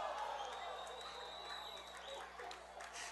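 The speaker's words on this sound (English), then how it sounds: "I just saw or heard the crowd explode in excitement" A crowd at a high school football game between Mira Mesa and St. Augustine roars in excitement after a big hit, a broad, sustained cheer heard from a distance.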